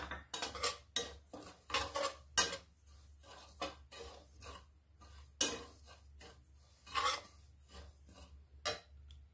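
Semolina being stirred and roasted in a hot wok, a quiet series of irregular metal scrapes and clinks from a spatula with faint dry rustling between strokes.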